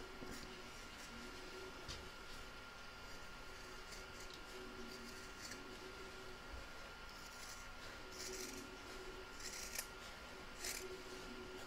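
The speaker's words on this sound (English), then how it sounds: "And now I can cut all the way round, straight through the zip." Scissors cut through fabric and a zip in quiet indoor sewing work, a steady series of small crunching snips and rubbing over more than ten seconds, faint and close, with no talking.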